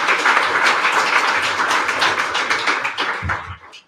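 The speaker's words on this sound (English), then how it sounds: "Give me a great applause" An audience at a tech talk on renewable energy and machine learning applauds, a dense, steady wash of many hands clapping that holds strong before tapering off near the end.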